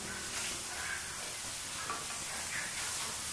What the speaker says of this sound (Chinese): 煎的时候，我们不停的给它晃动一下锅，使其受热均匀。